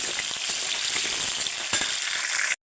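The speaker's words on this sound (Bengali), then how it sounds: "এবার আলু ভেজে নিচ্ছে" Potatoes fry in hot oil with a steady, close crackling sizzle and small pops, continuous for a couple of seconds before cutting off abruptly.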